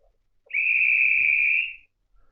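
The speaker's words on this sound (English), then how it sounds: "The next one's a simple guide's whistle." A single railway guard's whistle from a model railway sound module, one steady, loud, shrill blast lasting just over a second, alone with no talk.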